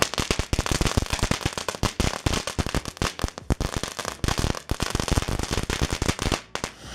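Magic whip novelty fireworks crackling in a dense, continuous rapid string of sharp pops and snaps like firecrackers, loud and close, sustained for several seconds with no talk.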